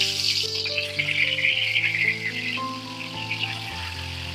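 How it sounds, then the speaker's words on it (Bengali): Loitta fish coated in turmeric and salt frying in hot oil, a steady bright sizzle running throughout under a droning background hum. "এখন হচ্ছে আমি সেই মাছগুলোকে ভেজে নেব। মাছ আমি হলুদ আর লবণ মাখিয়ে নিয়েছি।"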